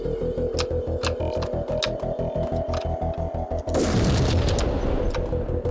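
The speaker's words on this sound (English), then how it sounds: "There was a completely random explosion that happened." A sudden loud boom from the video game Max Payne cuts through repeated rhythmic thuds of gunfire-like game audio, followed by a rumbling roar that carries on to the end.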